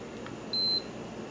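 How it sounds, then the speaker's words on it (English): A single short, high electronic beep from a water-powered clock, quiet and clean, lasting about a quarter second against faint background hiss. "it made a quiet little beep"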